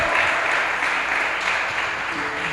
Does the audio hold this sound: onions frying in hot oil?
no